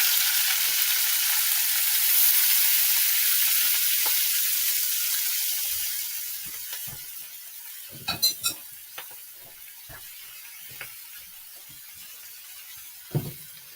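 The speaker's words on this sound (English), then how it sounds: "we are going to get the cabbage in the pan" Cabbage fries in a hot pan with a steady, broad sizzle that slowly settles, marked later by scattered clinks and scrapes of utensils against the pan.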